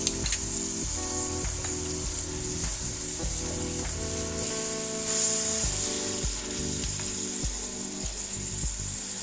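Tomato paste and ground green chillies fry in a squash and chicken dish with a loud, steady, close sizzle and hiss. Intermittent droning, motor-like tones rise and fall over it.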